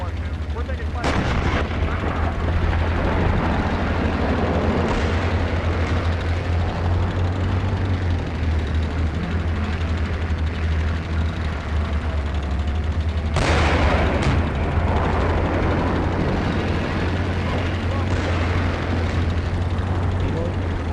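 Sustained gunfire and artillery-like blasts from a video game firefight, loud and continuous over a constant low rumble, with heavy bursts near the start and again around the middle, while voices talk throughout.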